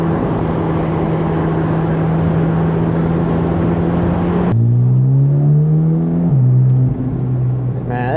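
A 2025 Corvette C8 Z06 engine idles loudly, then revs up with a rising, roaring pitch before settling back, close and sustained, at night.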